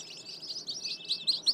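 Native chicken chicks chirp in quick, high, repeated peeps, several birds overlapping at close range, the calls growing livelier toward the end over a quiet background.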